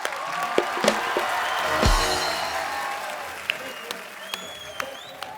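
A studio audience on a comedy talk show claps and cheers to welcome actress Sayyeshaa onstage, with dense applause, a few whoops and brief sharp accents over the crowd noise.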